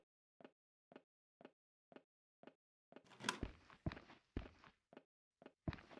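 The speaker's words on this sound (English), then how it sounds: "I hear footsteps." Footsteps in a horror video game, a steady run of soft, evenly spaced steps, followed by louder, heavier thuds and a brief rushing noise, with no voice over them.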